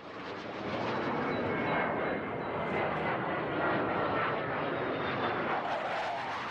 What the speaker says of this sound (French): un avion survole la zone toutes les minutes